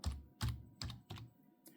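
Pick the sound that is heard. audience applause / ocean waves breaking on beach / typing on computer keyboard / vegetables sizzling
typing on computer keyboard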